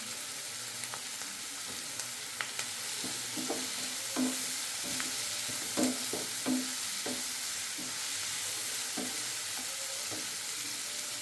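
Onions, green chillies and curry leaves sautéing in a pan for a fish kuzhambu, a soft continuous sizzle punctuated by a string of spatula scrapes and taps, close and moderately loud, with no talking.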